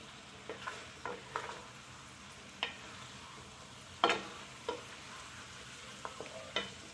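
Chicken pieces for chicken korma frying and being stirred in a pan, with a steady low sizzle and scattered sharp scrapes and clinks of a spoon against the metal.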